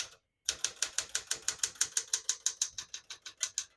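Typing on a 1972 Smith-Corona Sterling portable typewriter: after a short pause, a rapid, even stream of crisp mechanical keystrikes clacks close up, with no speech.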